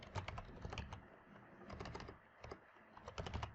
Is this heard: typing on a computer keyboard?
yes